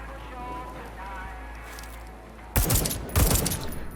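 Gunfire in Deathloop on PS5 breaks a quiet stretch as two loud, close bursts of rapid shots, with a voice talking before them.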